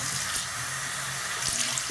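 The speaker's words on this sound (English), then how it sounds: "So now I'm gonna rinse my face" Water runs steadily from a sink tap while a face is being rinsed, a close, constant splashing hiss with a few small splashes from hands in the stream.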